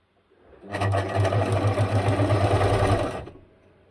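Sewing machine stitching paper snippets into a junk journal snippet roll, a steady close motor whir and rapid needle clatter running for about two and a half seconds, then stopping.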